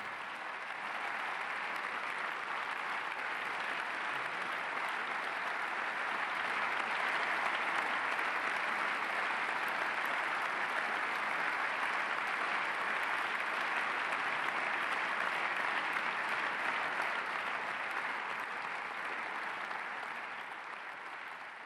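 Members of the German Bundestag give Zelensky sustained, even applause after his speech, a dense roar of clapping that swells slightly midway and carries on for about twenty seconds without speech.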